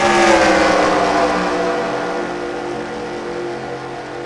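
Race cars in a video game roar off the line at Indianapolis as an All-Star race goes green, a dense, loud engine drone that eases slightly after the first second.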